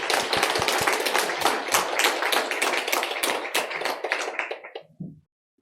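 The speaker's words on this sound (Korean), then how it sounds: "우리 이 귀한 자리를 주신 하나님 앞에 마지막으로 영광의 박수를 올려보내겠습니다" A church congregation gives a long burst of dense, lively applause at a pastor's installation service, steady for several seconds before tapering off abruptly into silence.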